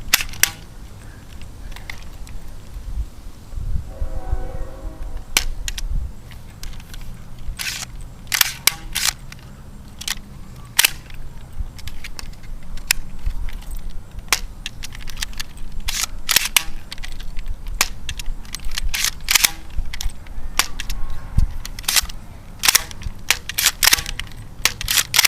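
A Nerf Rebelle Fair Fortune toy blaster is fired again and again, giving sharp, close plastic clicks and snaps at an irregular pace over quiet room noise.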